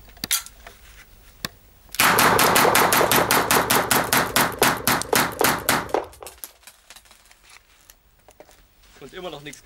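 A Zoraki 918 blank pistol fires a rapid, evenly spaced string of about twenty sharp, loud shots that cut off abruptly during a high-round-count endurance test. Quieter handling clicks come before and after.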